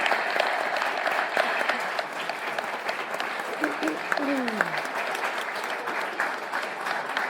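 Crowd at a county board meeting applauding youth participants: dense, sustained clapping that fills the room at an even level, with voices mixed in and a brief vocal exclamation near the middle.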